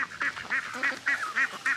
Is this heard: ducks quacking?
yes